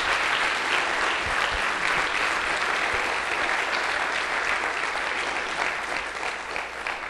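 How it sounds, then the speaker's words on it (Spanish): Loud, sustained applause from a conference audience, dense clapping that holds steady throughout without pause. "Denle un aplauso al Señor."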